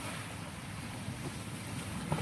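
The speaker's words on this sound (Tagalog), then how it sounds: "Ang lakas ng hampas ng alon." Strong waves pound the shore at Talik during a typhoon with heavy monsoon rain, heard as a steady, dense, roaring wash mixed with wind buffeting the microphone, with no voices.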